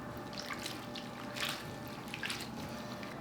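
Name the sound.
rinsing leeks in water and straining them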